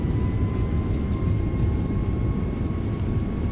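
Thrust reversers on an American airliner roar just after landing at Charlotte, a loud, steady broadband rumble heard from inside the aircraft, with no talk over it.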